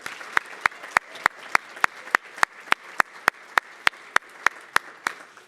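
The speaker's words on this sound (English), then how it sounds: "One more round of applause for Costa." Audience applause at a landcare summit opening session, with sharp, evenly spaced claps ringing out close by in a steady beat over a softer background of crowd clapping.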